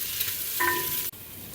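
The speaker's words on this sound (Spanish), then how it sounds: "Derretimos la grasa, pero siempre revolviendo." Pork fat sizzles steadily as it melts and fries while being stirred for a traditional guiso carrero, a close, continuous crackling hiss throughout.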